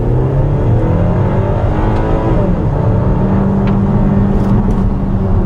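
A 2015 Audi Q3 2.0T quattro pulls away sluggishly from a stop, its engine droning in a steady, slowly rising hum with no voices.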